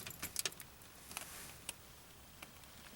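Car keys jangling in the dash ignition of a 1953 Packard Cavalier, a few quick metallic clinks and rattles close by in a quiet interior, with a couple of later soft clicks.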